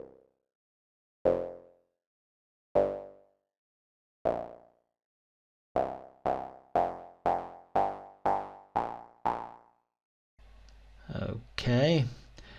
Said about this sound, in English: this is the bandpass filter